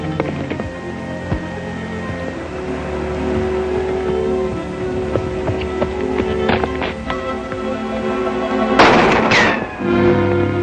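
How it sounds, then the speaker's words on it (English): Gunshots ring out in a shootout in a 1937 Western, sharp cracks scattered across a busy, noisy background with hoofbeats and motion, several shots spaced irregularly and fairly close. "Then we'll turn and start shooting."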